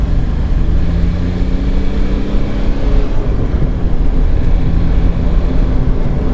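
A 2006 Smart ForTwo turbo diesel accelerates at full throttle, its loud, close engine roaring with a steady rough drone and a faint rising whine, heard from inside the car without talk.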